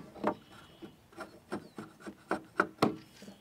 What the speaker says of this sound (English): I'm just going to bevel these slightly